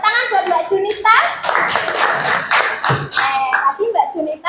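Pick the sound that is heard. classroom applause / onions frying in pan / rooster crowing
classroom applause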